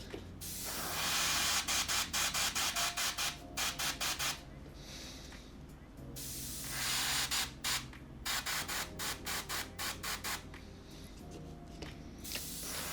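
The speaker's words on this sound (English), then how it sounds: "So just going to be applying this very gently through the airbrush to those areas." An airbrush spraying paint onto a Warhammer 40k Ork miniature hisses close by in long sprays and quick rapid pulses, soft and airy, with brief silences between bursts.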